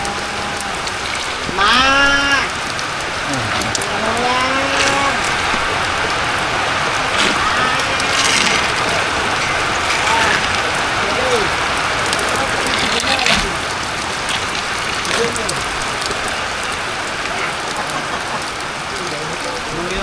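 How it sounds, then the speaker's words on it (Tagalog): Steady, dense patter of heavy rain fills the whole clip, with a bird's rising calls and cries breaking through now and then. "lumakas na ang ulan"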